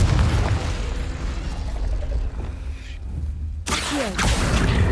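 A Confringo spell bursts in Hogwarts Legacy, a loud, close boom with a rushing, fiery roar that sustains for several seconds, dips briefly, then erupts again in a sharp second blast.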